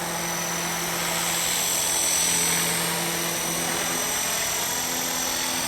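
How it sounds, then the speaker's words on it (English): A small toy helicopter whines steadily as it flies, its high buzzing rotor tone swelling slightly and then easing, with no talking. "Really is fantastic little helicopter, this one."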